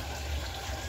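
Water poured into a pot of cooking sururu mussels in a home kitchen, a steady watery gush lasting under a second, close and fairly quiet, with no talking.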